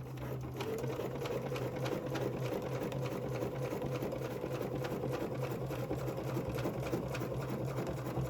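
Sewing machine stitching a fabric placemat, a quick even mechanical whir running at a steady pace close by, with no voice over it.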